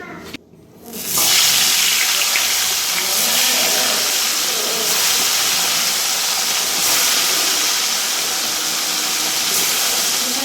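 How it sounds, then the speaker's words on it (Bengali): Salted, cleaned parshe fish sizzling in hot oil in a wok, a loud steady crackling hiss that rises after a brief quiet start and holds for about ten seconds with no talk. "এবার ভাজবো কড়াতে তেল দিয়ে দিয়েছি"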